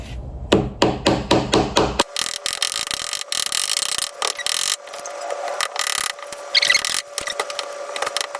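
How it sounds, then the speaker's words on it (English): Sharp, evenly spaced hammer blows ring out close by, followed by steady scraping and chipping as the strikes continue, breaking open a wet gem excavation block. "Now I'm going to start hammering."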